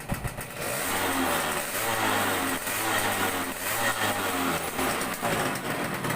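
Suzuki YL2 motorcycle engine revved repeatedly, a steady mid-pitched drone rising and falling in several throttle swells over the clip, close and loud with no talking.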